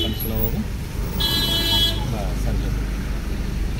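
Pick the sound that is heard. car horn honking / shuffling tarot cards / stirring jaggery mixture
car horn honking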